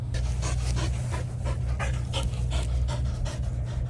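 An Australian Shepherd pants loudly and rapidly up close, a steady rhythmic huffing that continues throughout with no other sounds.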